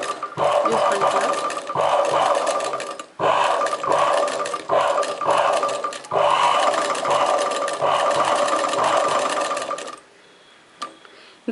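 A domestic sewing machine stitching an embroidery design on a chudidar neckline runs in loud, fast rhythmic bursts with brief pauses, then stops near the end, leaving a faint click.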